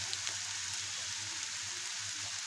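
Turmeric and red chili powder hit hot oil in a pan while cooking rajma, giving a faint, steady sizzle with soft crackles throughout.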